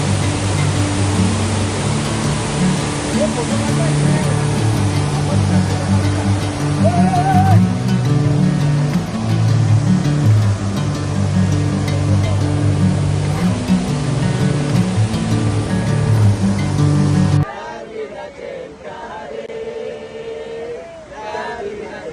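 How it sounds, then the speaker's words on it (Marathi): Loud, continuous rushing water roaring from a waterfall near Kasara, steady throughout before dropping abruptly to a quieter, distant wash. "मग वाढणाऱ्या पाण्याचा आवाज"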